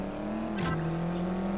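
Race car in the CSR Racing mobile game revving hard at the start of a drag race, a steady engine drone with a rising whine and a brief burst of tyre or gear noise midway.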